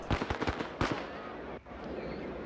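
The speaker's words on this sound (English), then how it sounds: "Let's throw some firecrackers as well." Firecrackers thrown in the riot video game RIOT - Civil Unrest, a quick burst of several sharp cracks in a row followed by one louder bang, over a murmuring crowd background.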